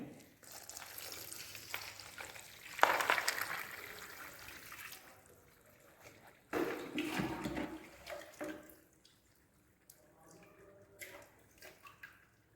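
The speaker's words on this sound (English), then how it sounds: "and now you have to pour the water" Water is poured in two bursts into a concrete mix in a lab workability test, a soft splashing trickle heard fairly close against quiet background.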